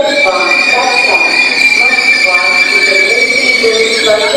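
A Sapsan high-speed train creaks and squeals loudly as it pulls into the platform, with sustained high screeching tones and groaning under a station announcement voice.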